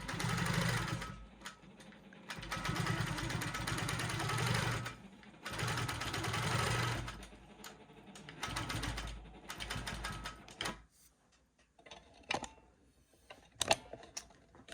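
A Janome Quilt Maker Pro 20 long-arm sewing machine stitches in several fast, buzzing bursts separated by short pauses, close and fairly loud, then falls quiet with a few light clicks and handling knocks near the end.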